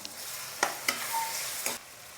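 Ginger, garlic and curry leaves fry in a pan for a spicy capsicum prawn gravy, giving a soft steady sizzle with a few sharp crackles and stirring scrapes.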